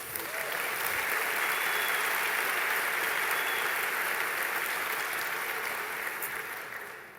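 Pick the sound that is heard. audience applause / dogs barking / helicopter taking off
audience applause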